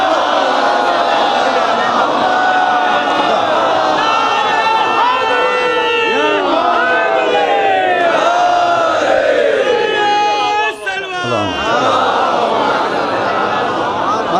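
A large crowd at a Shia religious majlis chants a slogan together, loud massed voices rising and falling in unison, with overlapping shouts and a brief swell of cheering.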